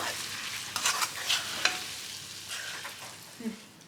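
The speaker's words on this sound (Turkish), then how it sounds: "Biraz pul biber atıyorum. Biraz da tuz. Şöyle biraz kavuruyorum hemen." Red pepper flakes and salt sautéing in a pan, with soft sizzling under a few sharp scraping stirs of a utensil, close and fairly quiet.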